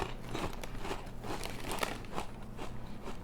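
Crunchy cheese-dusted Moroccan snack chips being chewed up close, a steady run of crisp crackling crunches with no talk.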